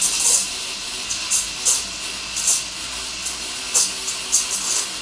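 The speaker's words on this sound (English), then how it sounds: "Pull the steam one down into the milk," An espresso machine's steam wand on a Brasilia Opus Sublima runs at full power in a jug of milk, giving a steady hiss broken by repeated short, bright chirping bursts as air is drawn in, close and loud.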